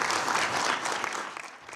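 Sustained applause in the UN Security Council chamber after a resolution is adopted, a dense, steady patter of many hands that fades slightly toward the end.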